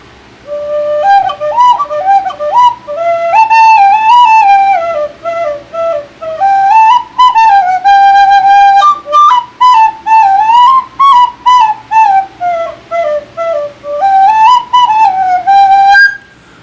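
A red Clark Sweet Tone tin whistle with a low-breath, quiet voice plays a soft melodic tune indoors, clear sustained notes in phrases, then a run of short tongued notes, with no talking.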